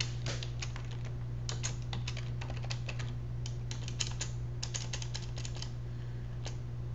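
An email message is typed on a computer keyboard in quick, irregular runs of close key clicks over a constant low electrical hum.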